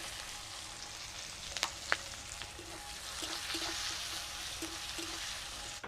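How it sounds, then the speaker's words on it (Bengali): Chopped onions hit hot fish oil seasoned with bay leaves and five-spice, sizzling softly and evenly nearby, with a couple of sharp clicks early and light stirring taps later. "এবারে দিয়ে দিব পেঁয়াজ কুচি।"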